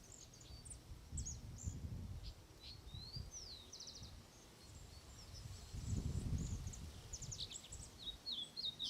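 Small birds, goldfinches, chirp and twitter in short, high bursts scattered throughout a park, fairly faint, over a low outdoor rumble with occasional rustling.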